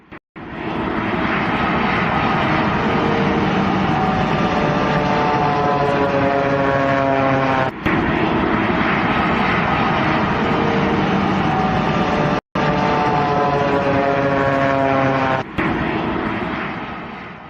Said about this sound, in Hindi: लैंड होते समय आप इस प्लेन की भी आवाज सुनिए